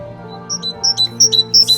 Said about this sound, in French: C'est notre mésange charbonnière qui est dans le jardin, très facile à reconnaître.